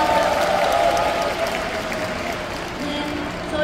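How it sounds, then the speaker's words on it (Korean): An audience applauds a children's line dance demonstration team at a Korean line dance association year-end party: dense, steady clapping filling the hall for the whole stretch, with other sound faintly beneath it. "여러분 큰 박수 한번 부탁드리겠습니다."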